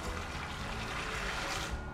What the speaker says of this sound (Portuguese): vamos adicionar a água